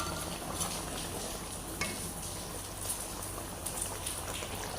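Chicken korma gravy fries in about a cup of oil, giving a steady soft sizzle and bubbling with occasional sharper crackles and stirring clicks, with no talking.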